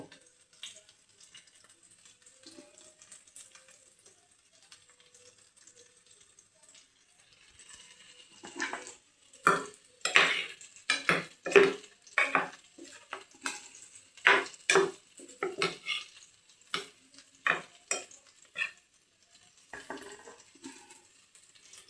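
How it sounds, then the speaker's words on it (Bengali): Spice masala stirred in a pan while cooking paneer, quiet at first, then a run of rhythmic scraping and clinking strokes from a spoon against metal, close and fairly loud, with no talking. "এবারে পুরো এই মশলাটা আমি মিক্স করে নেব।"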